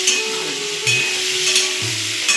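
Steady frying sizzle of potato and cauliflower in hot oil, close and continuous, with a few soft clunks of stirring or utensil contact and a faint low hum.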